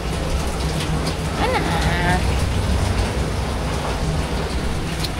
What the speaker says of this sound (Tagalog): Hindi tayo maalis gawa ng maulan. May bagyo.